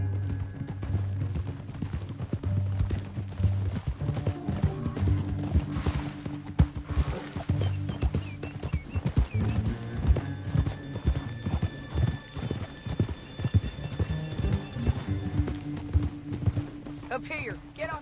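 Horses gallop in Red Dead Redemption 2 with rhythmic clip-clopping hoofbeats and an occasional whinny, set under a low musical score, with voices talking over them at times.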